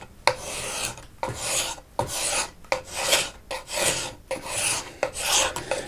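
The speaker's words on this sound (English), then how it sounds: "This is my favorite style of scraper. Double-sided scraper." A double-sided scraper pulls lacquer off a wooden sailboat rudder in even strokes, making about eight loud raspy scrapes in a steady rhythm, close up with no talk.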